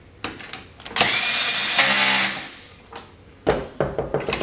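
Power drill driving a screw through a pool cleaner wheel hub: a loud whirring burst of about a second and a half that winds down, framed by short clicks and handling knocks before and after.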